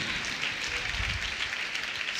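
A church congregation at a Sunday service applauds in a faint, steady patter of clapping from across the hall.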